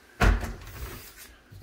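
A storage cupboard door behind a laundry-room door in a house opens with a single soft thump and brief creak near the start, followed by quiet room tone.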